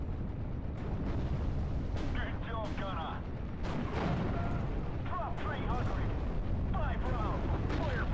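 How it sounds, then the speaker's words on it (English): An artillery barrage in Steel Division: Normandy 44, a continuous rumbling roar of shelling with bursts of impacts, heard close under game sounds and a few brief tonal effects. "Oh, wow, that is close. Barrage."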